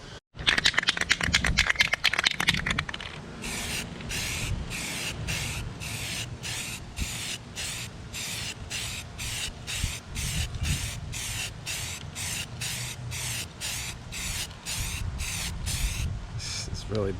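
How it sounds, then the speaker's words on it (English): Spray gun painting a car and throwing overspray onto the roof, a steady close hiss broken into regular short bursts as the trigger is pulsed, with a brief rattling start. "Getting overspray all over the roof again."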